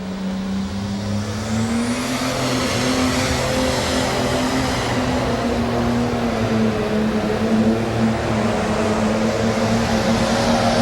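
A single-turbocharged pro stock pulling tractor makes its run at a 1993 national finals pull in Louisville, Kentucky. The engine gives a loud, steady, continuous roar with a high whine riding over it for the whole stretch, with no talk.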